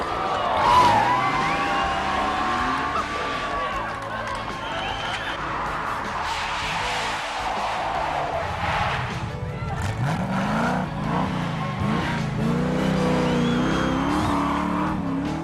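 Racing car on a tarmac rally stage during the 1994 Targa Tasmania, engine revving loudly with pitch sweeps as it brakes and accelerates, continuous and close, with a faint voice underneath.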